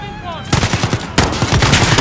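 Rapid machine-gun fire from Call of Duty: Modern Warfare comes in two loud bursts of evenly spaced shots, the second following a brief break, with a voice heard faintly at the start.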